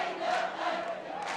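Spectators at an amateur rugby match between Saldanha and SAFCOL make a sustained, fairly distant crowd roar with rising shouts and no clear individual voices.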